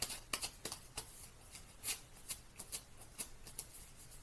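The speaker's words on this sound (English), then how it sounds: "we're going to take this beautiful image, sticker image, off of our sticker sheet" A sticker image being peeled off a sticker sheet, a quiet close run of crackling peels and taps in an uneven rhythm.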